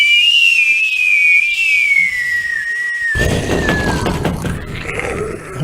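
A loud comedy falling-bomb whistle glides slowly downward for about three seconds, then breaks into a noisy rumbling crash that fades out.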